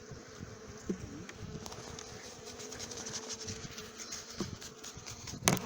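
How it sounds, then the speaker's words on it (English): Bees fed with sugar buzz steadily around the camera, a soft continuous insect hum with occasional louder passes and faint handling noises. "So we'll try and get as many bees as possible"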